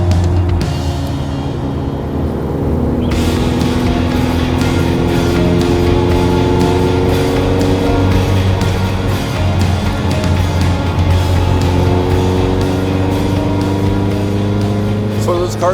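A Lotus sports car accelerates along a twisty technical road, its engine loud and close, climbing in pitch through rising revs with a steady droning hum underneath.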